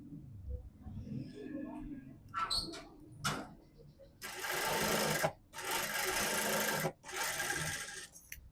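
A sewing machine stitches the edge of a court set garment in bursts, a couple of short runs followed by two longer loud stretches of rapid whirring, with faint handling noises and some speech between.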